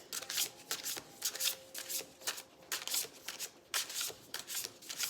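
Tarot cards are shuffled by hand in a quick riffling rhythm, repeated soft papery bursts and slaps following one another steadily at close range, quiet overall.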